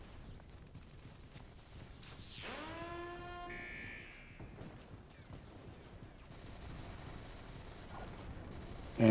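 A fire hacker in an online shooter game gives off a buzzing, rising electronic tone with stacked harmonics, moderately loud over a muffled background of distant game action, with no talking.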